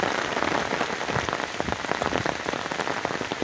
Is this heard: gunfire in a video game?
no